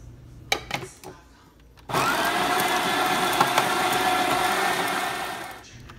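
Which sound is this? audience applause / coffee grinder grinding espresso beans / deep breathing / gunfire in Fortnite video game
coffee grinder grinding espresso beans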